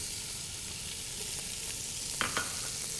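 Onions, garlic and shallots sizzling in rendered bacon fat for a smoky tomato and cannellini bean soup, a steady, fairly soft frying hiss with a couple of light stirring clicks near the end.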